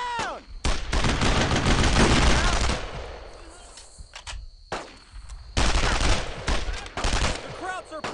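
Bursts of gunfire from a World War II squad battle in a shooter game, heavy rapid volleys with machine-gun fire and shouting voices mixed in, pausing briefly before another loud barrage.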